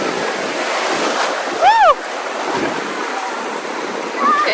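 Strong surf rolls and washes steadily at Folly Beach, a loud broadband rush close by, with a brief whistle-like tone and wind on the microphone.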